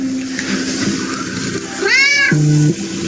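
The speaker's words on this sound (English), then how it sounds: "This cat sounds exactly like the one in Minecraft." A cat gives a single clear, close meow that closely resembles the Minecraft cat, rising over a steady background hum.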